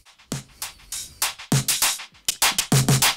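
Mixed drums, including a clap, driven through Soundtoys Devil-Loc saturation, giving crunchy, dense, punchy hits in a steady pattern with bright, compressed tails, played alone.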